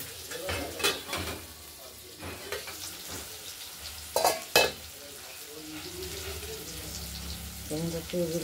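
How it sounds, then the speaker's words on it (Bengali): Potatoes sizzle steadily in hot oil, with occasional clinks and scrapes of a spoon stirring against the pan. "আলুগুলো ভাজা হচ্ছে।"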